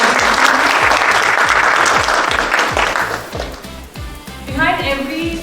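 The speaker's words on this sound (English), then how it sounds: "Can we have a huge round of applause for them?" A crowd at a company event applauds loudly with rhythmic, unison clapping that fades partway through, followed by a speaking voice over the dying claps.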